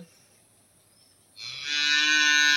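A quiet moment, then a cow lets out a loud, close, sustained moo that continues to the end.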